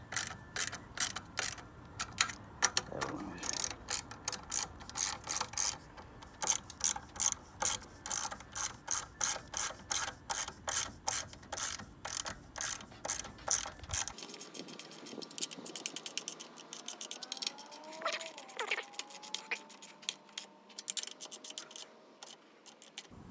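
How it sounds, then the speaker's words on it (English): A ratchet tightens the battery terminal on a Honda S2000, giving loud, rapid, evenly spaced clicks up close for about fourteen seconds, then softer, sparser clicking with a few faint squeaks. "So we're just tightening it."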